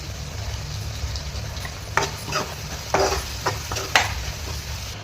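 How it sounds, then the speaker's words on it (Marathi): Chicken curry with spices is sautéed and stirred in a pan. A soft, continuous sizzle sits under a low hum, broken by several brief utensil scrapes against the pan, and no one speaks. "तर सगळं परतून घ्यायचं"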